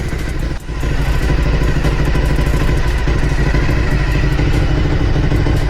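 A rebuilt Suzuki SV1000S motorcycle engine runs steadily at idle, a loud, close, continuous mechanical rumble with a slight clatter and no pauses.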